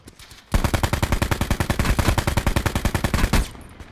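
Sustained automatic gunfire from Call of Duty Blackout, a rapid, evenly spaced burst of loud shots lasting about three seconds, alone with no talk, ending abruptly.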